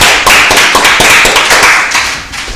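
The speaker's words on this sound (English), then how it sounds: "I actually am going to ask for a round of applause for that." Applause breaks out at a community board meeting, loud close-up clapping that holds steady from start to finish.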